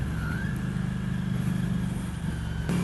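A Ducati Scrambler Icon motorcycle fitted with a Termignoni exhaust idles nearby, a steady low engine rumble with a slight rise in pitch early on and a brief change near the end.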